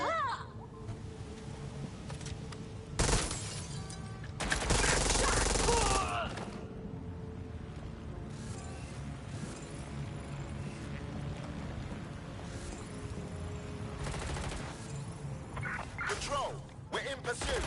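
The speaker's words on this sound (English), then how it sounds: "Gunfire!" Bursts of gunfire in the video game Watch Dogs, with sharp loud volleys and rapid shots breaking over a busy game soundscape, while voices talk over the action.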